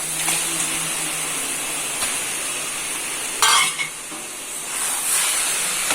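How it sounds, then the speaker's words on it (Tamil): Washed chicken pieces being stirred into a frying biryani masala, giving a steady soft sizzle and hiss with a few scraping stirs and a brief louder burst midway, with no one talking. "சிக்கனை சேர்த்துட்டு இதோட நல்லா கலந்து விட்டு"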